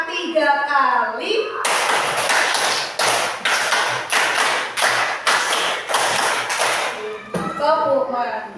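Children in a classroom concentration game clap in unison in a long, steady sequence of about a dozen loud, evenly spaced claps, with a teacher speaking before and after.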